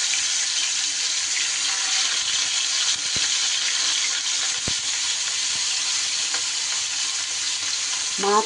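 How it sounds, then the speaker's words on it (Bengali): Spiced katla fish pieces fry in hot mustard oil and ghee, a steady dense sizzle holding close and even throughout, with a few sharp clicks and a brief scrape near the end. "তেল আর ঘি সুন্দর করে গরম হয়ে গেলে এইবার আমি মাছগুলোকে ভেজে নেব।"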